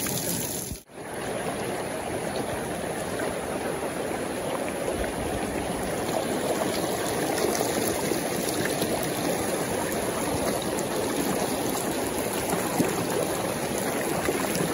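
A rocky, boulder-filled river flows steadily near Sungai Lampir in Plantungan, Kendal, Central Java, giving a continuous, full rushing and burbling wash of water that stays loud and close throughout, with no voices.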